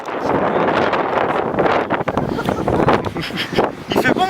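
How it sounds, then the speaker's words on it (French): Wind blowing outdoors in Iceland on a cool day, a steady broadband rush buffeting the microphone loudly throughout, with gusty swells and no clear pauses. "Mais il y a du vent."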